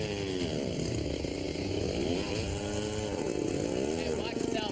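A big chainsaw cuts a log in a river, its engine roaring loud and steady throughout with rising and falling revs as the blade bites.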